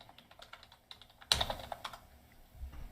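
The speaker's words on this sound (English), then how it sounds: "Typing." Typing on a computer keyboard: a quick run of light key clicks, then a louder clatter of several keys struck together, heard close with no voices.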